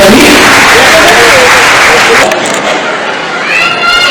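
Loud, dense applause fills a hall at a memorial gathering for a Jain acharya's first samadhi day. The clapping is steady throughout and thins slightly toward the end.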